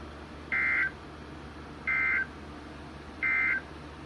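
NOAA Weather Radio emergency alert tones sound as three identical short steady electronic bursts, about a second apart and fairly loud over quiet radio hiss, with no voice.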